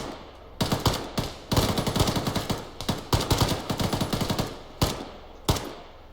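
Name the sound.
machine gun fire in video game Arma 3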